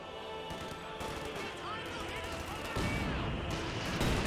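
Grenadiers firing rifles in Company of Heroes 2, a faint spread of distant gunshots and artillery rumble mixed into the battle, under continuous commentary.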